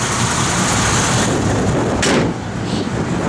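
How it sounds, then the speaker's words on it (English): A 1967 Chevrolet Camaro's small block V8 with a mild cam runs steadily nearby, a loud, dense rumble that holds constant and dips slightly near the end. "Good running small block."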